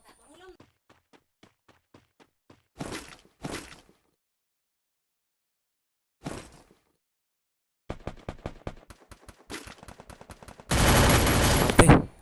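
Gunfire rings out in the Free Fire battle royale game: scattered single shots, a couple of sharp bursts, then rapid automatic fire and a dense volley near the end, with gaps of near silence between.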